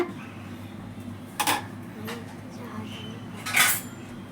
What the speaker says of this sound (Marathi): आता मी जरा मिक्स करून घेते